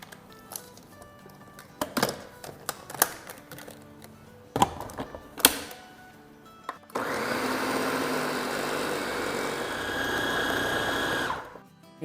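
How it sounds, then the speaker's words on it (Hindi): Kitchen blender mixing semolina, curd and water into a batter: a few sharp clicks and knocks at first, then a loud steady whirring motor for about five seconds that cuts off abruptly. "साथ ही इसमें हम डाल देंगे 2 टेबलस्पून पानी और इसको ब्लेंड करेंगे"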